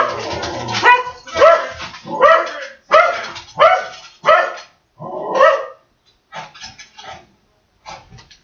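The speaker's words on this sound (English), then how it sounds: "sorry about the barking" A dog named Clifford barks loudly and close in a series of about a dozen sharp, evenly spaced barks, with the later ones coming in quicker, lighter yips, indoors with no talking.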